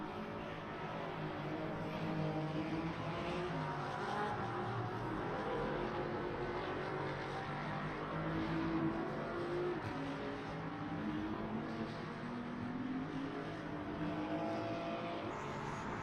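Race car engines drone steadily at high revs throughout in the Le Mans Ultimate sim, a dense, continuous roar with a distant car, a Ferrari, spinning off somewhere behind, not standing out from the constant engine noise.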